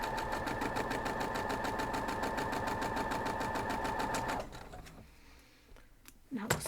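A sewing machine stitching quilt block pieces together runs steadily at a fast, even rhythm for about four seconds, close and clear, then stops, followed by faint handling noises and a soft bump.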